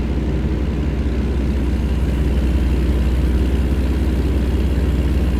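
A Kenworth W900 truck engine in the video game American Truck Simulator hums steadily at a low idle-like drone, loud and constant throughout with no talking.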